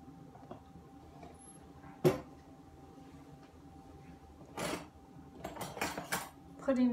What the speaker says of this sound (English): Putting knives away.